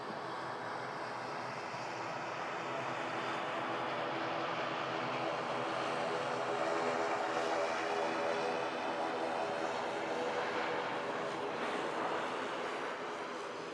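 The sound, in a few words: aircraft at Manchester Airport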